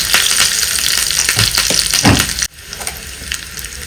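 Garlic, dried red chillies and curry leaves sizzle loudly in hot oil for a tempering, with spoon stirring scrapes, then the frying drops to a quieter steady hiss.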